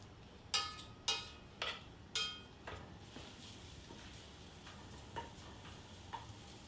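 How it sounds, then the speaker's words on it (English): Bacon frying in a hot cast iron pan, with a faint steady sizzle behind several sharp clinks of a utensil against the pan early on, then quieter scrapes. "I'll let this cook over here until most of the fat is released and the bacon is a little bit crisp"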